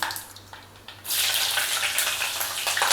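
Chopped green chilies dropped into hot oil already crackling with mustard seeds and fenugreek, a quiet lead-in then a sudden loud sizzle that holds steady, close up in a home kitchen for a drumstick egg curry.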